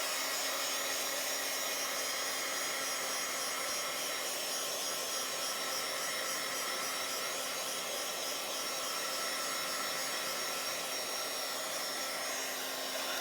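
A hair dryer blows steadily and loudly at close range over a wet decoupaged napkin on a journal page. The airy roar stays unbroken throughout.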